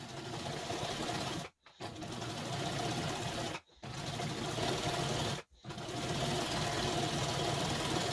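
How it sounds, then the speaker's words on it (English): A sewing machine stitching thin cotton pillow case fabric, running in a steady fast mechanical whir for long stretches broken by two short stops, close up and with no voices. "hold on while I sew that together"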